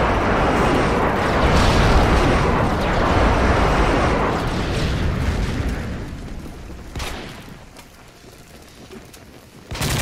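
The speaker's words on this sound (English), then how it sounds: "Delta airstrike on the way." Airstrike in Call of Duty MW3, with a long, roaring series of heavy explosions rumbling loudly for several seconds, then fading to quieter battle noise broken by a few sharp bursts.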